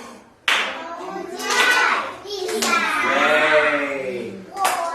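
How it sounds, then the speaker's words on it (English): Children clap their hands together in a small classroom, a few sharp claps mixed in among overlapping young voices and chatter, close and moderately loud. "3, yeah, 3 claps, you see."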